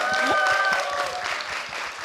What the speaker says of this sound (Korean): 진짜 다시 한번 축하의 박수 부탁드리겠습니다